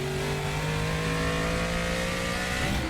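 A race car engine in a driving simulator game drones steadily at high revs, close and loud, then rises slightly in pitch near the end as it accelerates.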